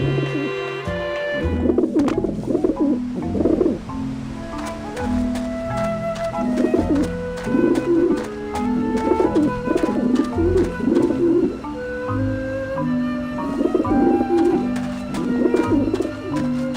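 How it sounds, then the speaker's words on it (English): Pigeons coo repeatedly around a dish vent in the video game Grim Fandango, soft throaty rolling calls recurring in bursts over a steady layer of background music, close and clear. "Pigeons obviously like this dish vent."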